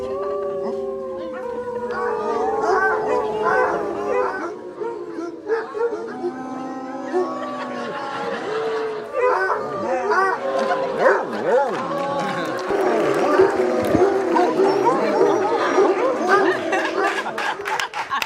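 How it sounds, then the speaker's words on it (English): Several basset hounds howl and bark together in overlapping, wavering cries, loud and close, with yips and whimpers mixed in and people talking underneath. "Basset Hounds. They are some of the more vocal dogs out there."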